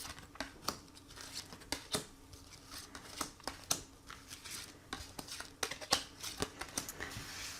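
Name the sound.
tarot cards being handled and drawn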